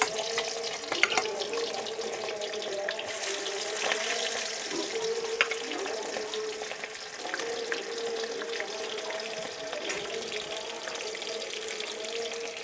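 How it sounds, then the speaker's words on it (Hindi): Fish fries in hot oil with turmeric, giving a steady close sizzle and crackle throughout, with occasional louder pops and no talk. "हमारी मछली फ्राई हो लगी संगवारी हो।"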